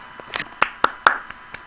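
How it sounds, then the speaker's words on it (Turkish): Several short, sharp claps from a Minecraft sound effect, spaced irregularly and fairly close, with no voices. "Buraya bir alkış sesi."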